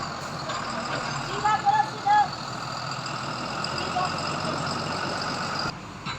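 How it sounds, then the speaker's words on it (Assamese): A truck from Gujarat hauling a large machine reverses slowly through a village: a steady engine rumble runs throughout, with a few short, high chirping tones near the start. "আৰু চাওক লাহে গাড়ীখন বেক মাৰি আহি আছে"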